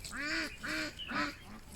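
Geese or ducks in the Xiangxi countryside let out three honks in quick succession, nasal and fairly near, followed by a fainter fourth call, with no talk over them.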